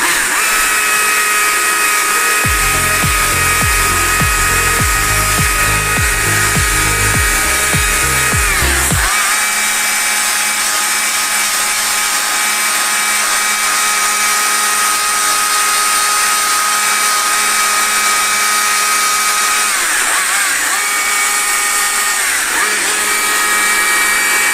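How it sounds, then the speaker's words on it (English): A chainsaw carves the side of the nose ridge on a wooden barn owl sculpture, a close, loud, steady motor whine with shifting load and pitch that runs without a break. "we're going with the saw here, just to try and shape out the side of the ridge of the nose"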